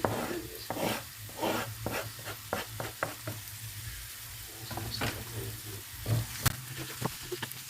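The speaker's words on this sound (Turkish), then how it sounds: "son işlem olarak da domateslerimi içine döküyorum." Diced tomatoes sizzle in a hot pan while a utensil stirs and scrapes at irregular intervals, close and fairly quiet.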